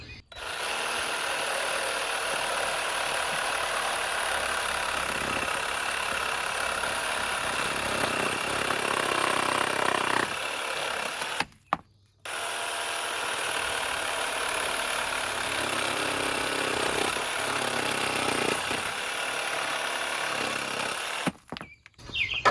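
Craftsman reciprocating saw fitted with a wood blade cutting, a loud buzzing motor roar with rough rasping, running continuously, pausing briefly midway, then resuming and stopping at the end.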